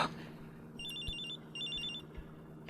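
A mobile phone rings nearby with a bright, repeating electronic ringtone in two short bursts against quiet room tone.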